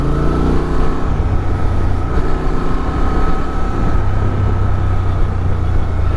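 A 2023 Honda Transalp XL750 motorcycle engine in sport mode accelerates with a steady, loud, close-up drone and throaty low rumble over constant rushing wind noise, without pauses.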